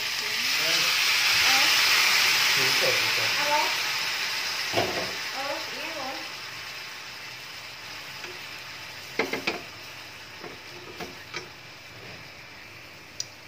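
Pork bones stir-frying in a pan for a bamboo shoot and pig trotter soup, a steady sizzle that fades over several seconds, followed by a few scattered clinks and taps.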